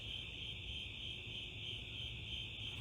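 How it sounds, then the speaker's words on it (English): Crickets chirping outdoors at night in a steady, dense, continuous trill that fills the whole stretch, moderately loud and without pauses, no talking. "I can't hear anything over these crickets"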